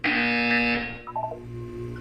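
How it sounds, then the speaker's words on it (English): A loud electronic buzzer blares in the video game Portal 2, a steady harsh tone cutting off after under a second and then fading into a low hum with faint tonal blips. "You will hear a buzzer."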